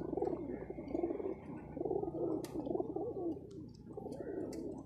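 Pigeons coo in soft, repeated throaty phrases at close range among kept birds, with faint chirps and clicks scattered between the calls.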